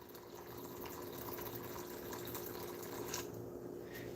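Hot water pours steadily from a tap or dispenser, a faint continuous hiss and gurgle filling a container, heard alone at low level.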